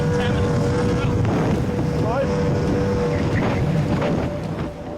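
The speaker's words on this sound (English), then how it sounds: "The Howth team pushed their D-class lifeboat to its top speed of 25 knots." A D-class lifeboat runs flat out at about 25 knots off Howth, its outboard engine whining steadily under heavy wind buffeting on the microphone, with faint voices and shifting tonal whines through the run.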